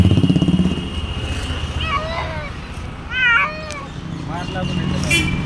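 An injured cat, apparently hit by a vehicle on a roadside, meows in several plaintive drawn-out cries, close by, over idling engine noise and traffic with people talking nearby.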